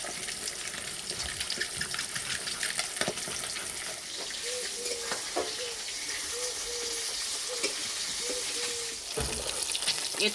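Oil frying in a pan with a fizzing, crackling sizzle, stirred now and then, with faint tonal squeaks in the middle and a steady kitchen background, no one speaking.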